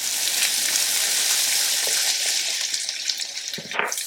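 Onions and red and green bell peppers sautéing over a high flame, a steady close sizzle running throughout with a brief clatter of stirring near the end.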